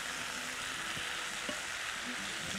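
Rice sizzles and crackles in a hot pan for seafood paella as it is stirred, a dense steady frying hiss with faint scraping of the spoon underneath.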